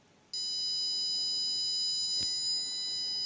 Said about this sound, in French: le buzzer commencera à sonner